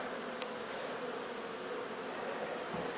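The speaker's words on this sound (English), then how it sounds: "some of these bees, they want to go to the top" Russian honey bees kept indoors buzz in a steady, faint, continuous hum from many insects close by, with no voices.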